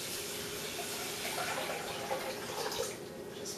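A quart of water pours steadily into a medium saucepan, a continuous close splashing rush that lasts a few seconds and then eases slightly, with no talking.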